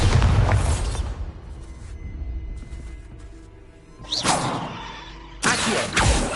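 Bombarda spell blasts in Hogwarts Legacy: a loud, close explosion opens, then quieter rumbling follows, and two more sharp whooshing bursts strike near the end.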